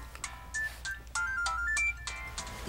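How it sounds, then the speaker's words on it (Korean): A phone rings with a repeating electronic melody, steady pulses of bright tones rising and falling, fairly clear at moderate volume with no talk over it. "집에서 오는 전화 아니야?"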